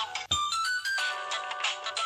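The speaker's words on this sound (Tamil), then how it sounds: "எங்க இருந்து போன் அடிக்கிற சத்தம் வருது?" A mobile phone ringtone rings continuously for about two seconds, a bright repeating electronic melody at steady loudness, with no talking over it, heard during a tense scene in a Tamil television police drama.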